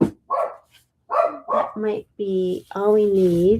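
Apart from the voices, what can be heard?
dog barking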